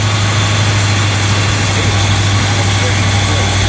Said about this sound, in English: It's a quiet engine.